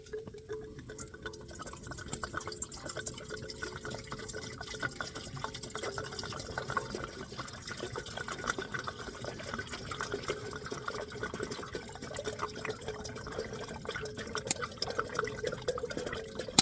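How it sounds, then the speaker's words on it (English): Water is poured into a pot inside a hot tent on a snowy camping trip, giving a steady, continuous splashing fill that runs for about sixteen seconds at moderate, close volume, with no talking. "I still got to get my water in there."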